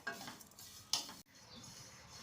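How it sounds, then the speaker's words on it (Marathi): Coriander seeds, sesame, cumin and grated coconut dry-roast in a pan over medium heat, heard as quiet scraping stirs with a couple of brief brighter scuffs of a spoon against the metal, separated by near silence. "आता हे खमंग असं आपण भाजून घेऊया"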